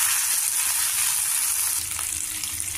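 Mustard seeds, chopped green chillies and curry leaves sizzle in hot oil as a tempering for cabbage curry, a steady close crackling hiss with no talk.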